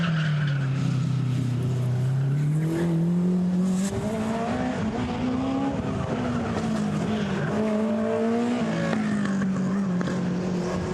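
A Derek Bennett lightweight sports racer charges up the Chateau Impney hill climb, its engine a loud, close whine rising and falling through gear changes, with a sharp shift midway and steady roar throughout.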